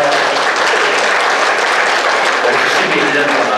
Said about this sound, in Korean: 우리 속장님들, 인도자님들을 위해서 박수 한번 쳐주십시오.